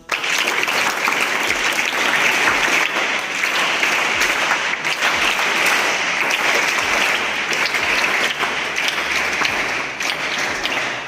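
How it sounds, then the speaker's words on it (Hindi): Sustained applause from a large crowd of schoolchildren and staff at a Gandhi Jayanti school event, a dense steady wash of clapping that continues for several seconds without letting up. "और बैंड के भी बच्चों तालियां बजाइए।"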